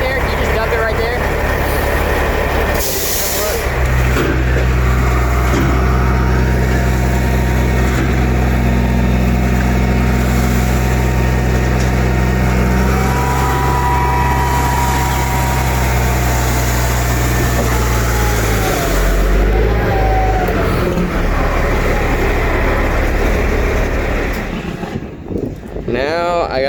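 A truck unloads crusher run gravel, a mix of big rocks and fines, next to a woodpile: a loud, steady engine rumble runs for about twenty seconds with grinding hydraulic tones, then drops away near the end.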